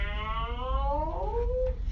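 A voice imitates a cat's meow in a long, drawn-out wail, one close sustained cry whose pitch slides downward before trailing off, heard on its own.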